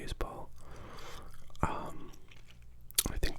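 A person chews gum with wet, smacking clicks close to the microphone, mixed with soft whispered speech, during the opening of 1981 Fleer baseball card packs.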